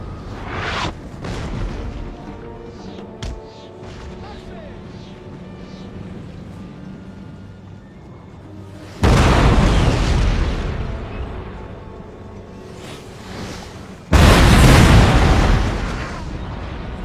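A 6-pounder cannon fires with two loud deep booms about five seconds apart, each with a long rumbling decay, over a busy background of battle noise.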